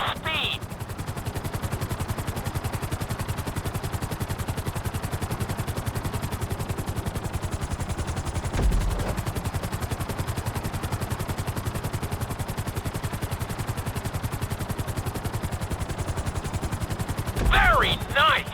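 Helicopter rotor chopping steadily throughout a Grand Theft Auto V flight, a dense rhythmic thrum with brief louder bursts near the middle and end.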